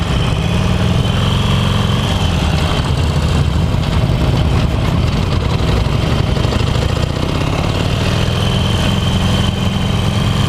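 A 2018 Harley-Davidson Roadster motorcycle engine drones steadily and loudly throughout while riding, its low rumble rising and falling slightly with throttle, with no talking.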